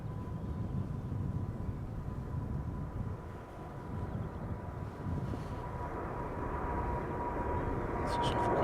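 A KLM Boeing 777-300 airliner heading this way, a low, fairly faint jet rumble with a steady whine, dipping briefly midway and then building, with some wind on the microphone.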